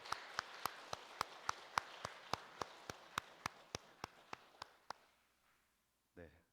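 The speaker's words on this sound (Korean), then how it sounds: "우리 환영의 박수로 맞이하도록 하겠습니다" A church congregation at a Sunday service claps in unison to welcome a family, about twenty sharp, evenly spaced claps in quick rhythm, fairly faint in the room, fading out after five seconds before a brief voice sounds.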